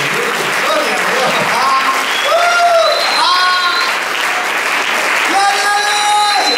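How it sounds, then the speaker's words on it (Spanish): A church congregation claps in steady, sustained applause at a Sunday service, loud and continuous, while voices shout and cheer over it. "Den un fuerte aplauso a Jesucristo."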